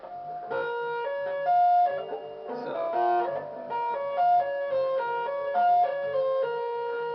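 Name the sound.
electric guitar two-hand tapping lick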